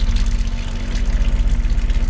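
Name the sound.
pump pumping water out of a leaking tank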